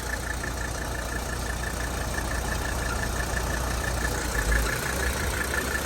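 A car engine idles unsteadily during an air-conditioning system check after a flush. The low, loud, continuous rumble is close up and drowns out everything else, with a brief dip near the end.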